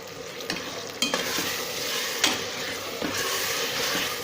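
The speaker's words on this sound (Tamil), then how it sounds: "நல்லா மிக்ஸ் பண்ணி விட்டுக்கலாம்." Tomatoes, some chopped and some blended to a purée, sizzle steadily in a hot pan as a spoon stirs them, scraping in a few distinct strokes over the constant close frying.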